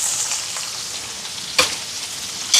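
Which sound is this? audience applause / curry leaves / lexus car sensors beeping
curry leaves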